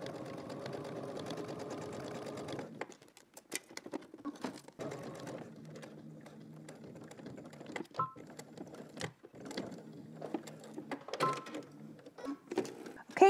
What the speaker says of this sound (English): now I'm gonna go to my sewing machine and I'm just going to top stitch